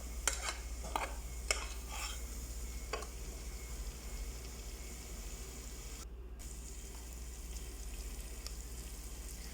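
Prawns fry in a pan for a prawn biryani with a soft, steady sizzle, while a few sharp scraping clicks come as the pieces are turned near the start. Low hum sits beneath and no one speaks.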